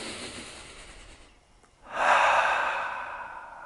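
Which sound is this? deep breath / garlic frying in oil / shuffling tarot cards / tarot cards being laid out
deep breath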